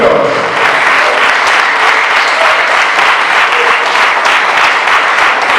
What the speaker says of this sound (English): Stand up, let your clap continue.